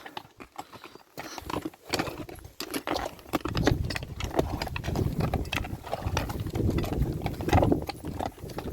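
Horses' hooves clip-clop steadily as the mares walk toward a nearby river to drink, with a brief whinny and faint background noise; the steps are close and continuous.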